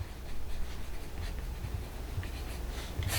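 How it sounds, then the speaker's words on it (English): Pen scratches across paper in a steady, close, quiet stroke while the words "neck strap" are written, with no talk. "I'm going to write down neck strap"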